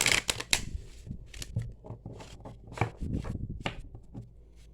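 Tarot cards are shuffled by hand in quick, crisp bursts of riffling and sliding, close and distinct with short pauses between runs.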